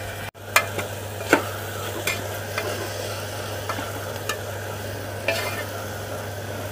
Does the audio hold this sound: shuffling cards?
no